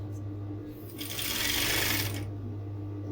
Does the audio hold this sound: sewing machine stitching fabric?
yes